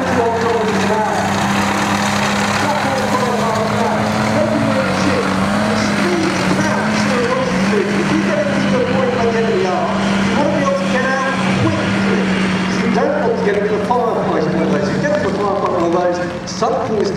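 A Lynx reconnaissance vehicle pulls away and drives off fast, its steady engine drone and rumbling running underneath someone talking throughout.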